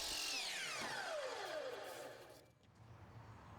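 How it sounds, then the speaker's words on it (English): A miter saw cuts a 45-degree miter on the end of a crown molding section: a loud, close whine that drops steadily in pitch as the blade spins down, then fades into quiet room noise. "To begin the installation, I cut a 45-degree miter on the end of one molding section."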